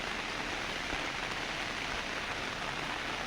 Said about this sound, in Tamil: இப்போ மழை நல்லா பெய்யுது இந்த இடத்துல